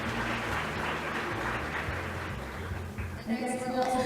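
Welcoming applause for a guest at the opening ceremony of the Jeonju Future City Forum 2024, loud and continuous across the hall, with a soft announcer's voice and tones emerging near the end.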